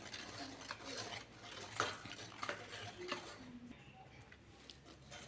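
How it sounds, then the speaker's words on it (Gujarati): Desi ghee being rubbed continuously to make a skin cream produces faint, repetitive scraping and light clinking of a utensil in a bowl, quiet and close. "આ રીતે આપણે સતત ઘસતા જઈને ક્રીમ બનાવવાની છે।"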